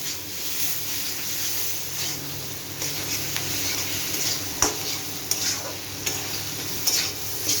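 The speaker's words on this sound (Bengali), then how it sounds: "এটাকে একটু নাড়াচাড়া করে নিই" Food is stirred in a cooking pan: a close, continuous sizzle runs under scraping, rustling stirs and scattered clinks of a utensil on the pan.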